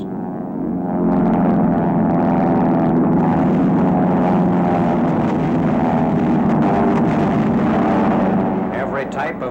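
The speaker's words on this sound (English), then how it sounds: "RAF planes over enemy territory on 22nd February, a typical day of all-out Allied bombing." RAF combat planes drone overhead on an Allied bombing raid over enemy territory in wartime, a loud, sustained propeller-engine roar that swells in and holds steady, with a narrator speaking over it.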